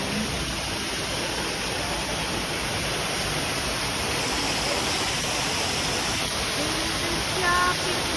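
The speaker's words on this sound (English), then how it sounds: "Water fountain." Indoor water fountain in a shopping mall at a casino resort, a steady broadband splash and rush running throughout, continuous and fairly near, with faint crowd murmur beneath.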